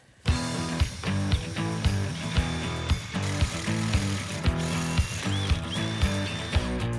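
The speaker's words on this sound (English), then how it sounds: "All right, let me drill that thing." A power drill runs steadily and loudly up close, its motor whine overlaid with rapid, regular mechanical clicking as it bores into the metal of an AMC 401 V8 engine block.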